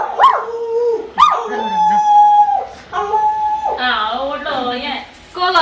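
Several household dogs, among them a bulldog, let out rising howls, whimpers and barks in quick bursts, close and loud, with some overlapping noise between calls.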